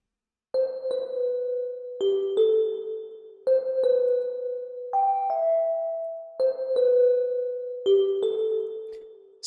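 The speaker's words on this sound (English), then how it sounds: "I went on to the bell that you hear and made like a counter melody" A bright synthesized bell in FL Studio 12 plays a slow counter-melody of sustained, ringing notes, each struck cleanly and decaying with a soft reverb tail.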